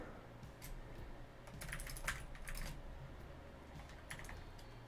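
Quiet typing on a computer keyboard during a live Apex Legends session, with scattered bursts of keystrokes clustering into a busier flurry midway, heard alone over a low steady background hum.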